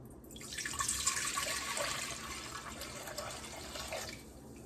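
Vinegar poured into a measuring cup for refrigerator pickle brine, a steady splashing pour lasting about four seconds before it stops, close and fairly soft.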